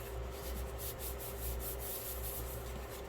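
Paper folded over and rubbed flat for a 5x7 inch matchbook mini album, a steady close scraping and rubbing that runs evenly throughout.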